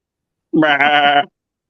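A single loud, close sheep bleat lasting under a second, wavering and nasal, set against silence.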